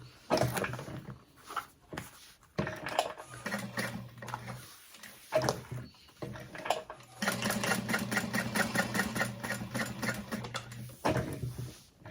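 A sewing machine top stitches a cross-body sling bag at a long stitch length, running in short bursts with pauses and then a longer steady rapid chatter, close and fairly quiet.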